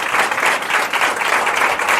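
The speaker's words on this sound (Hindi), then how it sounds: "परमेश्वर के लिए जोरदार ताली बजाओ" A church congregation applauds God after a worship leader's call. The clapping is dense, loud and sustained for two seconds, a crowd of many hands heard up close.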